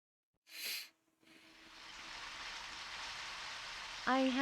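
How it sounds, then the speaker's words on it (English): Rain in the video game Deadly Premonition: after a short breathy burst and a pause, a soft steady hiss of rainfall fades in and holds, ending with a brief tonal voice-like sound. "Oh, it's raining"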